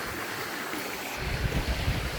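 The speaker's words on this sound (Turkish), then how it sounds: "Şakır şakır sular akıyor." Water rushing at the Turgut waterfall near Marmaris, a broad steady roar that swells louder partway through, heard alone without talk.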